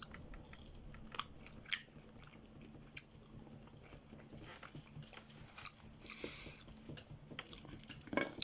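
Close, crisp biting and chewing of crunchy fried food, with repeated crunches at an irregular rhythm and no talking.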